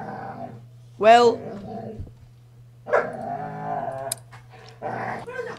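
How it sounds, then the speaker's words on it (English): A dog barks and growls in short bursts indoors, with sharp barks and rougher growling passages mixed with a person talking nearby and a steady background hum. "my dog's barking"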